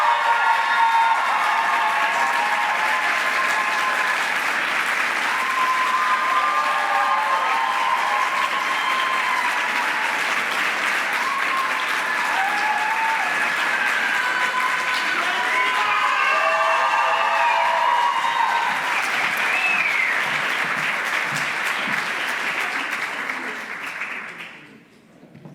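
A large audience at a graduation ceremony applauds in a long, sustained wave, with some scattered cheers rising through the clapping before it fades out at the end.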